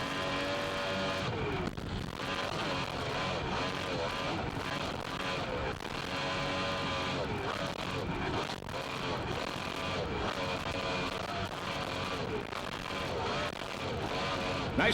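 A race car engine roars from an onboard camera during a 1995 skater race. The driver throttles up and back in repeated surges, loud and close, with engine tones rising and falling over about fifteen seconds.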